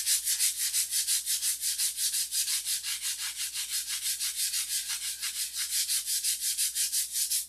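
An aircraft flap being refurbished is sanded by hand in fast, even back-and-forth strokes, a rhythmic rasping scrape repeated about three times a second, close and alone.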